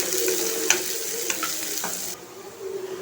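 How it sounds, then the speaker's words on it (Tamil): Onion sautéing in a pan, a close steady sizzle broken by a few quick spoon scrapes, then the hiss suddenly drops to a softer simmer near the end. "இப்போ இந்த வெங்காயத்தை நல்லா வதக்கிக்கலாம்"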